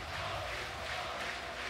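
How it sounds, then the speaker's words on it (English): A large crowd roars steadily in support of the Europe Cup champion team, a dense, continuous wash of cheering that stays loud and even throughout without breaking. "You can hear the crowd supporting them to the very end."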